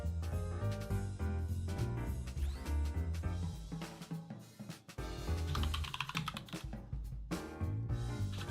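Rapid typing on a computer keyboard patters steadily throughout, with clustered key clicks sitting under loud, continuous game music.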